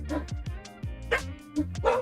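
Several dogs bark in rapid, overlapping bursts, close and fairly loud, with deep woofs mixed with higher yips.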